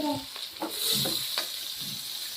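Chopped onion fries in hot oil in a pan with a bright, continuous sizzle and scattered stirring scrapes and clatters, close and moderately loud, without speech.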